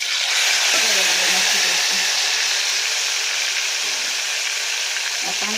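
Mustard seeds, cumin, asafoetida and curry leaves sizzle in hot oil for a drumstick curry, a loud continuous hiss close by with faint popping and occasional low tones underneath.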